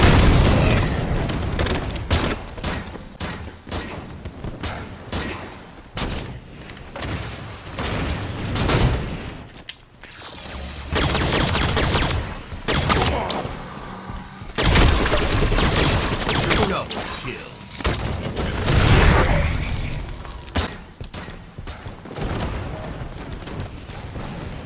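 Machine-gun fire and heavy explosions in the video game Halo 5 during a frantic multiplayer match, with loud booms and rapid bursts of gunfire repeating throughout amid dense game action.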